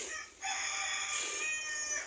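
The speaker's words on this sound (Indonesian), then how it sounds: "ada suara ayam itu barusan." A rooster crows nearby in a workshop where a fiberglass fishing boat is being made, one long drawn-out call that starts after a brief pause and holds to the end.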